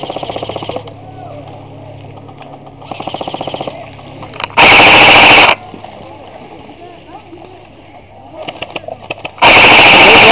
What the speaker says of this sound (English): those shots are coming from the far side